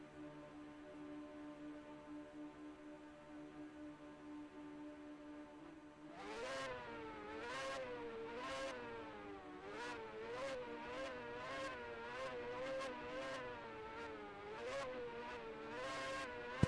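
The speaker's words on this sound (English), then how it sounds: "Hold off from revving, Speedy." Formula Micro race car engine on a road course, idling steadily before revving up repeatedly in rising and falling surges, loud and close with no talking.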